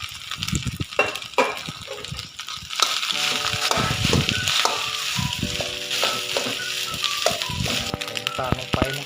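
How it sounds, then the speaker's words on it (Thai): Shrimp fried rice with egg and garlic sizzles in a hot pan, with steady frying hiss and scraping stir strokes as cooked rice is tossed in. Someone seems to speak faintly in the background. "ข้าวของเรานี่แหละใส่ลงไปเลยข้าวสวยของเรานะครับ"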